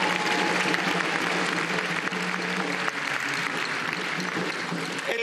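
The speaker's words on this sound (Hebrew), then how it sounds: "תנו להם כפיים!" Audience applause for three friends invited onto the stage of a live Israeli political event ahead of the prime minister's speech, a dense steady clapping from a large crowd that holds evenly for several seconds, with faint voices mixed in underneath.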